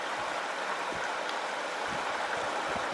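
Aira Force waterfall in the Lake District pours steadily, a constant broadband rush of falling water that stays close and even throughout, with no talk.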